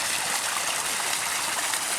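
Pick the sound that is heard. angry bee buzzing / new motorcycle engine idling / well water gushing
well water gushing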